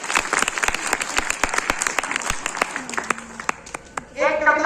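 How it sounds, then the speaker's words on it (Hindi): Audience at a lecture on the constitution claps for a speaker, with distinct individual claps in a loose, uneven rhythm rather than a dense roar, and a voice or tone rising at the end. "तो एक बार आप लोग शुक्ला सर के लिए तालियां बजाएं"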